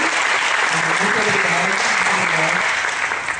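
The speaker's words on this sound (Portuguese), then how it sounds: "quero pedir também uma salva de palmas" Applause fills the room at a student research showcase during mobility week, a loud, sustained patter of many hands with a voice speaking faintly underneath.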